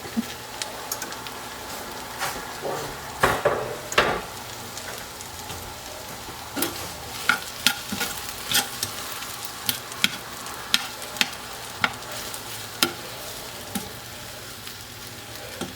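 Two chopped Roma tomatoes sizzling in a pan, a close, steady crackle with sharp utensil taps and scrapes scattered throughout, no talking.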